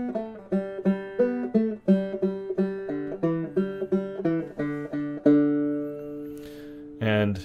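A clawhammer banjo plays the All For Me Grog solo slowly in a simple form, evenly spaced plucked notes over a ringing drone, the last chord sustaining before a brief voice at the very end.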